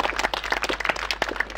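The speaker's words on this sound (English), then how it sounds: "Let's have a round of applause for Jeff." A small outdoor audience at a Jaguar car show claps for the owner of the winning XK150S, a light, irregular patter of hand claps from a modest group, fairly close and clear.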